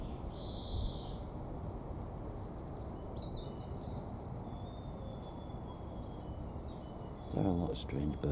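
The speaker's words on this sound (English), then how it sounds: "There are a lot of strange birds here." Strange bird calls in a Wellington forest, thin whistling notes drifting at a distance over a steady broadband hiss, with a brief closer burst of sound near the end.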